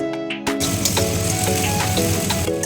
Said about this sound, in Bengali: এরপর এটাকে মাখিয়ে নিয়ে যতক্ষণ না ভালো করে ভাজা হচ্ছে ততক্ষণ এটাকে নাড়তে থাকবো